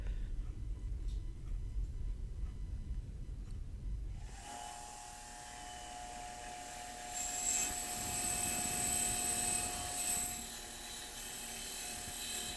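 A wire wheel grinds rust, grit and nickel plating off the cast body of an antique router plane, starting after a few seconds of low rumble as a steady high whine with an abrasive hiss that swells louder midway and then eases.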